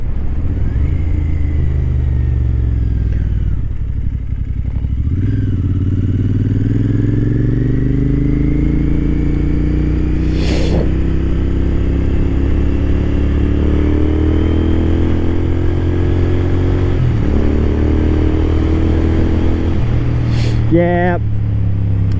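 A motorcycle engine drones steadily throughout a ride in somewhat cold weather, its pitch rising and falling with throttle changes, loud and continuous with wind rumble and a couple of brief shifts.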